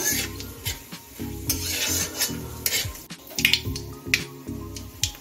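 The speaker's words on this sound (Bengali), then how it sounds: "2টো শুকনো লঙ্কা 5 ফোড়নটা দিয়ে দিচ্ছি। এখন একটু ভেজে নিচ্ছি।" Dried red chilies and five-spice seeds fry in mustard oil with a soft sizzle while a spoon repeatedly scrapes and stirs in a metal pan, with light clinks throughout; no talking.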